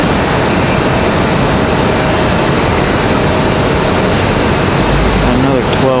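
A Frontier Airlines jet arriving at Raleigh-Durham airport gives a loud, steady, broadband engine roar that holds evenly throughout, with no break and no speech.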